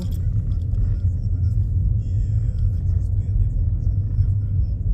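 A car driving slowly around the grounds of an ancient church in the late afternoon, heard from inside as a steady, loud, low engine and road rumble throughout.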